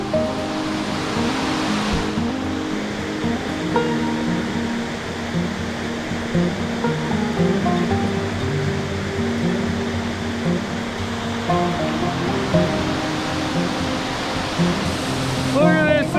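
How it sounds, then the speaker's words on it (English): Scenic Falls, a waterfall in the Canadian wilderness running heavy with water, roars as a steady, loud broadband wash throughout, with a voice speaking over it. "Look at this awesome waterfall."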